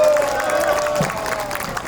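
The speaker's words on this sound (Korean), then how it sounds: "박수 한번 드리면 좋겠습니다." Brief crowd applause at a construction workers' labor rally outside Suwon Station, a fairly dense patter of clapping mixed with voices, fading slightly toward the end.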